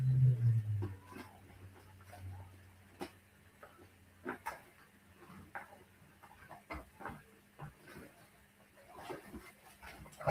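Dogs whimpering and giving soft yips and occasional barks while waiting to be let back indoors, faint and intermittent over a quiet room.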